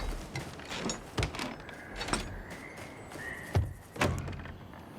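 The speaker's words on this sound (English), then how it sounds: "Let's unbar the door." Heavy wooden bar sliding free from a door in the fantasy game Avowed: a few dull thunks and a scraping slide, fairly close, with no talk.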